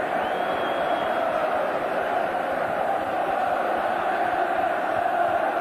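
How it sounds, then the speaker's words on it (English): A massive football crowd at St James's Park roars in celebration of a goal during a 1984 match against Brighton, a loud, sustained wall of cheering that holds steady throughout. "this massive crowd celebrate a great goal and another win"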